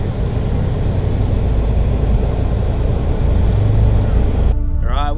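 Ultra 4 race truck pulling away, a loud steady engine roar that holds for several seconds near the listener before a voice briefly cuts in at the end.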